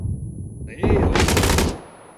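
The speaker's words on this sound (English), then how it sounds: "He had a freaking MG, man." A loud, rapid burst of machine gun fire in PUBG Battlegrounds, lasting under a second and fading out, after a moment of low rumbling game sound.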